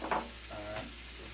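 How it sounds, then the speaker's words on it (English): Apples sizzle in a frying pan while an apple crumble is being cooked, a faint, steady hiss with a brief brighter crackle near the start and no talk. "throw the apples in the pan. You do it sizzle a little bit"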